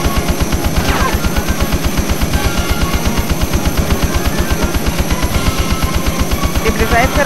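F-16 fighter jet cannon in Eagle One: Harrier Attack on PS1 firing a fast, loud, sustained burst of evenly spaced rounds across the whole clip, above steady jet engine noise.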